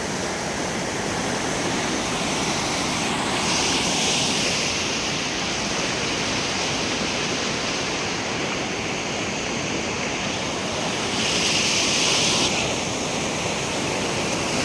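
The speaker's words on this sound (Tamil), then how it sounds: "கிட்டத்தட்ட 3-4 ஆண்டுகளுக்கு மேலாக மறுபடியும் தண்ணி போயிட்டு இருக்கு ஆற்றுல." A river flowing again after years of being dry rushes steadily, a broad continuous wash of water that stays loud and even throughout, with no voices.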